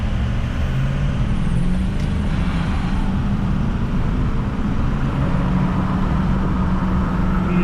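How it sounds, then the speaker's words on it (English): A Ford 6.0 Powerstroke diesel truck driving while warming up after a cold start, a steady loud engine drone with road noise inside the cab, continuous and close. "So I'm gonna drive around a bit and get this heated up"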